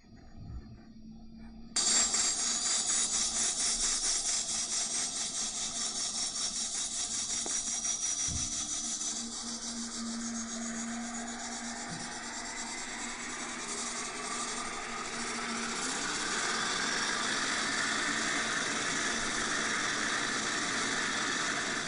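A simulated aircraft engine spools up in the Prepar3D flight simulator, a steady whine and broadband roar that kicks in abruptly after a short quiet start and holds loud and continuous, swelling slightly toward the end.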